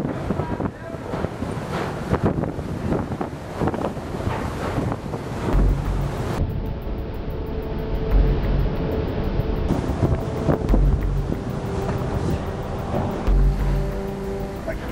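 Roaring Category 4 hurricane winds from Hurricane Harvey batter the microphone in a loud, constant rushing blast with heavy buffeting gusts and low rumbles, outdoors in the storm with no speech.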